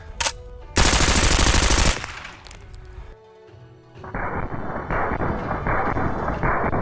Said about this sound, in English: We are using is an MP5 with a suppressor, firing subsonics.